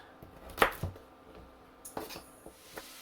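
A few sharp knife chops on a board, two close together then scattered lighter taps, in a quiet room.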